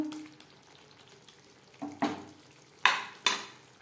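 Spatula stirring pointed gourd with garam masala in a pan for traditional Bengali tel potol, a few scraping and clinking knocks over a faint sizzle, near and fairly quiet with no talk.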